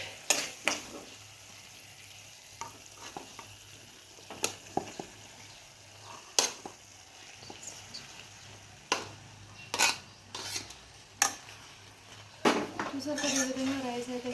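Cooked rice is stirred into tomato masala in a pan, producing a series of sharp metallic spoon scrapes and clinks against the pan over a faint sizzle, mostly irregular and close.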